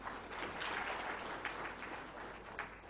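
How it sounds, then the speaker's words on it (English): A crowd claps steadily, a dense patter of applause at moderate volume that continues throughout. "Give him a big round of applause."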